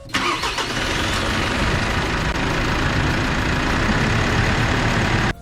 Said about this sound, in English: I'm going to try and start the engine.